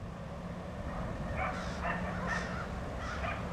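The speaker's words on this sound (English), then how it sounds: "You can hear them barking." Several dogs bark and yap in the distance at an animal shelter, a scattered series of calls over a low steady background hum.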